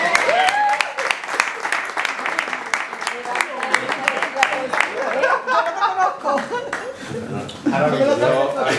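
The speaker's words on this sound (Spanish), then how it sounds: "¡Un aplauso para Pepe!" Audience applause at a cabaret show, dense clapping running steadily throughout with a brief dip near the end, mixed with voices and laughter in the room.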